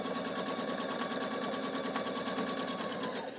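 A Husqvarna Viking sewing machine fitted with a pintuck foot stitches pintucks in fabric, giving a fast, steady mechanical whirring hum with rapid rhythmic needle clatter, close and continuous, with no talking.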